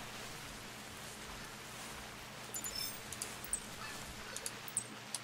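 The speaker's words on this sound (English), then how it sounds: "It's nothing but rain the past couple of days on me here at Hirschfelden." Rain falling at the Hirschfelden hunting reserve in The Hunter Classic, a steady hiss with light, sharp drop-like ticks appearing in the second half.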